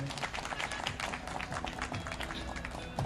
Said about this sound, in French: Monsieur Boba Emmanuel, sous vos acclamations encore, s'il vous plaît.